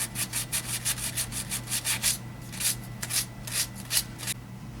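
A wooden piece is sanded by hand along its inner edges to round them, giving a series of quick, rhythmic rubbing strokes, close and fairly soft, with short pauses between bursts.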